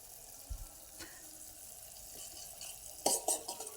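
Amla morawala cooks in thickening sugar syrup in a pan, heard as a quiet background with a few soft, scattered scrapes and clinks of a spoon, briefly clustering near the end.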